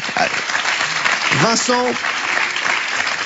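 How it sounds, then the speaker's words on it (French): Audience applause at a children's choir concert, heard as a loud, steady wash of clapping that runs throughout, with a brief voice sounding over it partway through. "Applaudissements, voilà."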